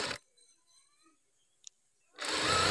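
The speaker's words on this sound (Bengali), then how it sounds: "আমি এখন সেলাই দিয়ে দিব।" Sewing machine stitching a one-inch folded hem on baby boy's half pants, running in a loud whirring burst, pausing in near silence, then whirring again.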